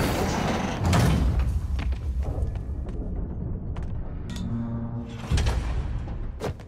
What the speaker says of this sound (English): Trap door.